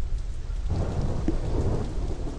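Steady rain and a low rumble of thunder from a storm in the video game Deadlight, heard alone with no voices.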